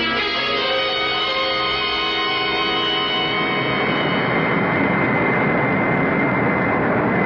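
A steady, loud airplane engine drones in flight as a radio drama sound effect, a dense continuous roar with no break and no voices over it.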